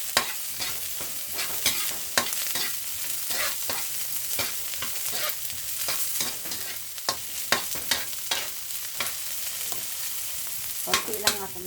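Garlic browning in a little olive oil in a pan, a constant crackling sizzle punctuated by repeated sharp clicks and scrapes of stirring, close, with no one speaking.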